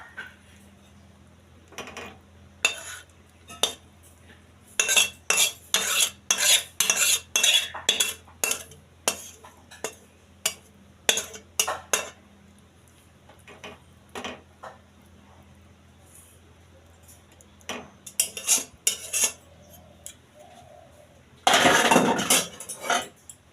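Cooked curry is spooned from a pan into a serving dish, a run of close metal scraping and clinking strokes in bursts with pauses, ending in a longer rough scrape.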